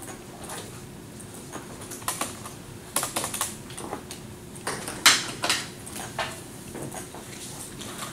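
Close-up typing on a computer keyboard, irregular clusters of keystrokes with a few sharper clacks and short pauses, heard alone without speech.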